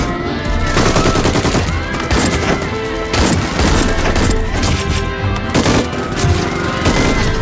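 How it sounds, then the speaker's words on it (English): Intense, rapid gunfire with dense bursts and sharp cracks near a school gate, loud and continuous, layered over a busy, cluttered background. "the teacher's gunfire becomes even more intense"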